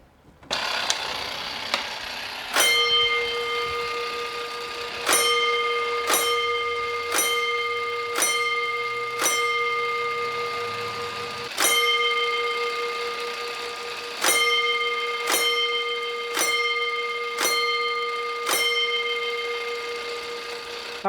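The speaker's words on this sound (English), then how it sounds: "I'll demonstrate here what the bells would kind of sound like" Old fire alarm bells with a ticker tape punch ring out in a museum display, sharp metallic strikes in spaced groups with long ringing decays, separated by pauses, loud and close with no talking.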